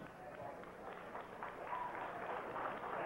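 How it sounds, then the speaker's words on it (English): Wrestling fans at a 1998 memorial brawl clap steadily in appreciation, a dense wash of crowd applause running throughout, with a commentator's voice over it. "The fans clap in appreciation"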